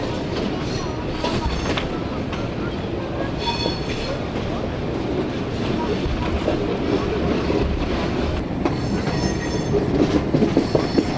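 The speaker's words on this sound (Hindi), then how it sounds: "ये रही पूरी 267 अप रावलपिंडी पैसेंजर।" The 267 Up Rawalpindi Passenger train rolls past on the rails with a steady, loud rumble, rhythmic wheel clatter and a few sharp squeals toward the end.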